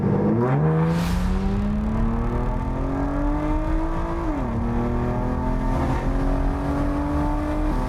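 A naturally aspirated 517-horsepower V12 in an Aston Martin DBS pulls through the gears, its steady rising drone climbing, dropping briefly at a shift, then building again, heard from inside the car.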